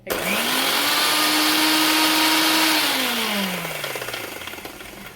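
A mixer grinder whirs loudly while blending mayonnaise, running at a steady high pitch before slowing and winding down toward the end.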